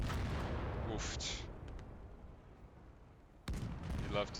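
Explosions in the video game Gates of Hell, with an ISU-152 heavy gun firing, come through as a deep, rolling rumble with a sudden booming blast partway through, followed by more rumbling.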